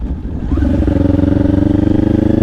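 A motorcycle rides through a roundabout, its engine pulling steadily with a loud, even, throbbing exhaust drone close by and a slight rise in pitch as it accelerates.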